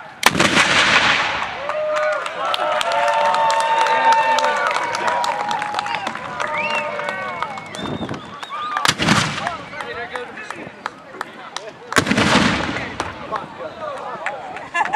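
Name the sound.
cannons firing at Fort Macon battle anniversary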